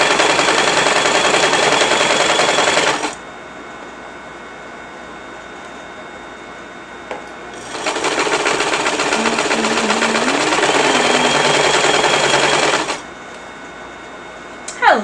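A sewing machine runs in two sustained bursts of steady, loud mechanical stitching, each lasting several seconds, separated by a quieter pause; a faint voice is heard between and under the runs.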